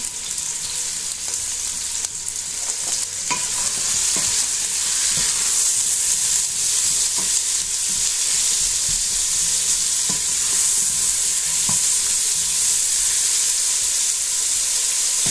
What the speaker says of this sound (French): Je vais rajouter les oignons, un peu de sel.